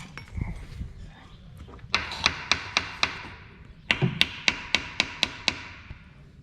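Sharp metallic hammer taps on a John Deere 4640 tractor during a split, two bursts of about six evenly spaced strikes each, close and loud over a low background rumble.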